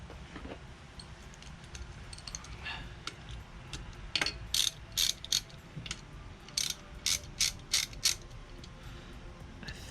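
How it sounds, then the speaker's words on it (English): Large Harbor Freight ratcheting breaker bar working bolts loose on a blown engine during teardown: a rapid run of crisp ratchet clicks in short bursts, close and clear over a low background hum. "Also, this giant ratcheting breaker bar from Harbor Freight is really cool."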